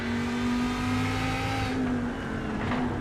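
A Lamborghini GT3 race car at Mid-Ohio in a racing video game revs hard with a steady, loud engine whine that climbs in pitch and then shifts down, heard onboard.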